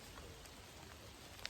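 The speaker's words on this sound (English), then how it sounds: "And it's starting raining." Rain begins falling outdoors during a summer holiday bike ride, a steady soft hiss of drops with a faint patter, no voices, quiet and even throughout.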